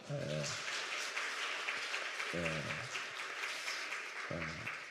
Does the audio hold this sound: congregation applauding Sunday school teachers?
yes